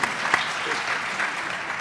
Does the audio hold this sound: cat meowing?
no